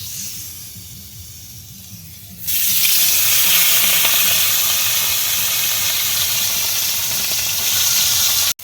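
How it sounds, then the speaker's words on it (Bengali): Parshe fish fry in hot oil in a pan near the Sundarbans forest: a quiet murmur swells suddenly into a loud, close, continuous sizzle and hiss that holds steady for several seconds, without talking. "মাছটা ভাজা হতে থাকুক"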